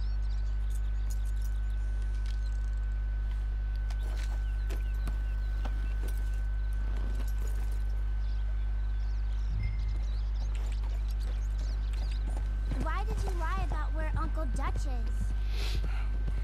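Hooves clop along at an uneven pace in Red Dead Redemption 2 while voices talk over a constant low hum.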